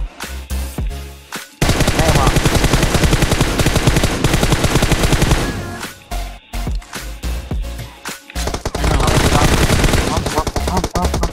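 Loud automatic gunfire in PUBG Mobile, sprayed at a vehicle in long sustained bursts with brief pauses between volleys, and a few scattered single shots near the start.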